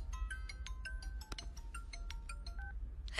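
A mobile phone rings with an incoming call, a repeating electronic ringtone of short bright tones in a steady pattern, fairly close over a low background hum, with no talking.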